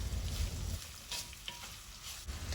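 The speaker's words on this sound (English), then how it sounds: "So I am frying this until the onions are translucent." Onions frying in a pan until translucent, a steady soft broadband hiss with occasional stirring scrapes and clicks, close up and with no talking.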